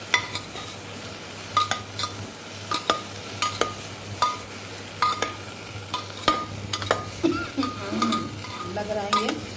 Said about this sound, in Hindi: ये भिंडी डाल दिया मैंने, थोड़ा सा इसको भी कल्हारने की ज़रूरत है।